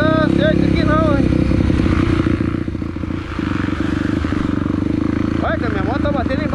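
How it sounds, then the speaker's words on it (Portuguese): Honda Tornado motorcycle ridden hard on a muddy trail, engine droning loud and steady with revving swells, plus scraping and clattering as it bumps over stumps, with voices shouting over it. "Olha que a minha moto tá batendo embaixo dos tocos."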